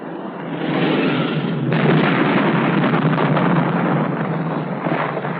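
Rockets fired from an F-100D strike a target in a 1963 US Air Force tactical weapons test, a sharp burst followed by a sustained, dense crackling rumble of impacts that stays loud throughout.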